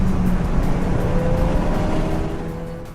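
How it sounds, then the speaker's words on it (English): Continuous engine drone and road roar from a 2014 Ford Fiesta ST turbo hatchback with six-speed manual on the move, a steady low hum with slight pitch shifts that fades a little toward the end. "Let's drive the 2014 Ford Fiesta ST, available only with the 6-speed manual."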